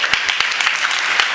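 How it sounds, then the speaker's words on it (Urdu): An audience claps at a church gathering led by a pastor, giving dense steady applause that is loud and close throughout. "اس کے لیے تالی بجاؤ۔"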